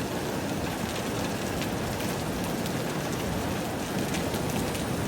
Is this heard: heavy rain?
yes